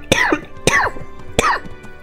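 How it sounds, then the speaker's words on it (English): Three harsh, close coughs spaced about half a second apart, each short and throaty, with quiet room noise between them. "Coughing ASMR."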